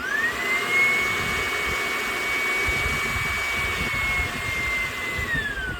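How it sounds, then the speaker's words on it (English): A pool equipment air blower runs as a loud, steady whooshing drone with a sustained high whine that holds level across the clip and dips slightly toward the end. "This is your air blower."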